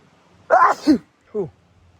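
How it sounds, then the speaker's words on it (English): A sharp sneeze bursts out close by, then a short quieter exhale or sniff follows. "Oh, I'm about to sneeze."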